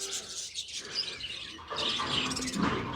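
Colourful caged birds and parrots at a large cow shelter chirp and tweet busily together, many overlapping calls at moderate loudness with no talk.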